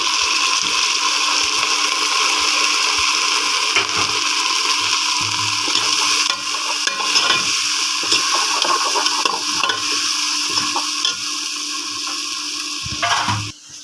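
Onions frying in a pan of oil while making kadhi pakora, a steady close sizzle with occasional stirring scrapes running throughout, no talking.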